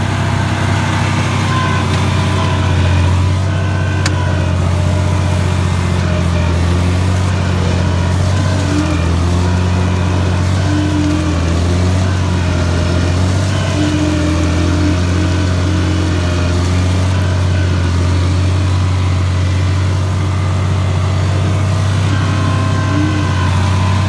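A Farmall 560 tractor subsoiling wet ground to drain water, its engine droning steadily and straining in mid-range pitch as the wheels spin in mud for over twenty seconds, loud and close throughout.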